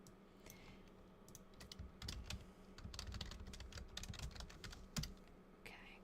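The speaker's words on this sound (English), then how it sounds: "Typing has been a struggle today." Typing on a computer keyboard, a quick run of light, close key clicks with uneven rhythm over a quiet room background, no voices.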